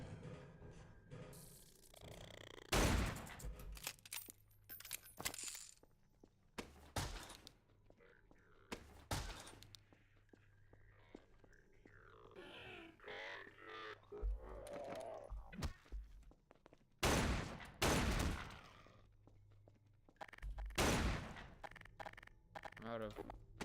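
Bursts of machine gun fire aimed at a zombie in a 2D World War II shoot 'em up game, loud sharp volleys spread across the clip, with quieter game thumps and effects in between.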